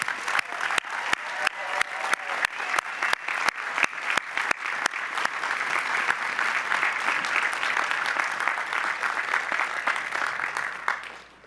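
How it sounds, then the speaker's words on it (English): Applause from a commencement crowd of graduates, parents, family and friends at an MBA ceremony, beginning with sharp individual claps and swelling into dense, steady clapping that fills the hall before tapering off at the end. "give your parents, your family, and your friends a big round of applause"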